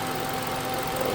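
2013 Hyundai Elantra engine running rough, a steady mid-pitched hum with a faint vibrating buzz, close and continuous for about a second.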